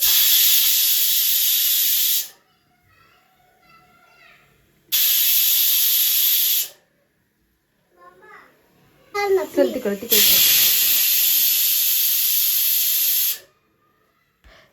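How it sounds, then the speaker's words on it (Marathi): A new pressure cooker cooking with milk lets off three loud, sustained steam whistles and hisses, each lasting about two seconds and separated by quiet gaps, with someone speaking briefly between the bursts. "आता शिट्ट्याचा सुद्धा आवाज दाखवते जेणेकरून तुम्हाला सुद्धा लक्षात येईल कसा चालतोय ते"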